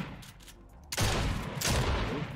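Shotgun fire in a video game aim-training course: a sharp, loud blast followed by a second shot, with rumbling reverberation trailing off after a quieter stretch.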